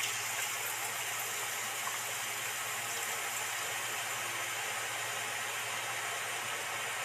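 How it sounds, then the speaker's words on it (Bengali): Gram flour batter pours through a perforated bowl into hot oil while making boondi, giving a steady, even hissing sizzle throughout with no voices. "এবার ফুটো বাটিটা এর মধ্যে উপরে ধরে নিচ্ছি, নিয়ে এইটা ঢেলে দিচ্ছি।"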